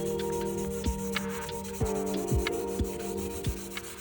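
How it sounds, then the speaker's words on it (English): A Scotch-Brite pad scrubs leftover urethane off a Miata hardtop, giving steady close rubbing strokes in an irregular rhythm with a low hum beneath. "I went to town cleaning up the remaining urethane with a Scotch-Brite pad"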